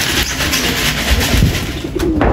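Racing pigeons reach their loft in a short burst of cooing and fluttering, close and fairly loud, with a background rumble.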